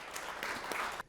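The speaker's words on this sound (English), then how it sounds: "We can applaud you, no?" Brief, faint burst of audience applause at a business conference, a quick patter of clapping from a modest crowd that cuts off after about a second.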